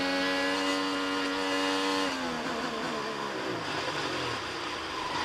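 IndyCar engine buzzing at high pitch during a rear brake lockup on the St. Petersburg street circuit, a steady whine that drops in pitch and turns rougher midway, moderately distant with no talking.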